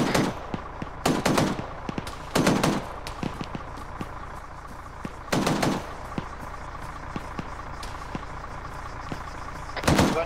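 Several separate bursts of rapid gunfire from shooters in a Sunday training exercise: sharp, loud volleys with quieter scattered shots and background rumble between them, and no talking.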